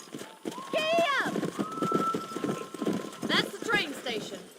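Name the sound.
horse galloping, from the video game Red Dead Redemption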